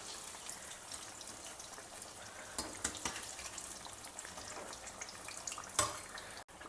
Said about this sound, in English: the sizzling also reduces a little bit